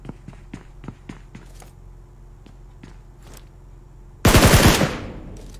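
Gunfire in a shooter video game: scattered sharp single shots and short clicks early on, then a loud burst of rapid automatic fire near the end, close and dominant.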